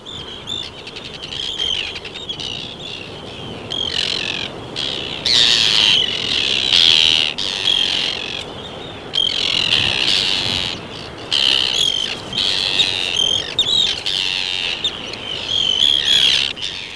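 Arctic terns calling on Shetland: harsh, grating cries and chirps repeat in bursts over a busy colony background, loud and close, with no voices.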